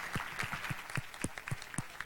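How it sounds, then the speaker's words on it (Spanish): A small panel audience at a Monterrey mobility forum applauds a speaker, with a few faint, distant, rhythmic handclaps standing out over quiet room noise. "Un aplauso para David Pulido,"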